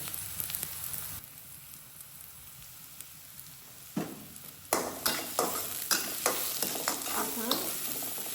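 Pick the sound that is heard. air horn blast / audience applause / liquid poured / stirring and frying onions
stirring and frying onions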